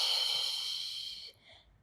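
A single long exhale during a Pilates core exercise, a breathy rush of air that holds steady and then fades out after about a second and a quarter, close and alone.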